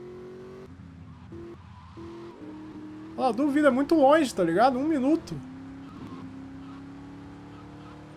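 A fast car in the GTA Vice City video game drones with a steady engine note under someone talking in Portuguese; the engine pitch rises and falls briefly in the middle.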